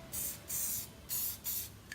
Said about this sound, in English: This using hairspray rather than a spray adhesive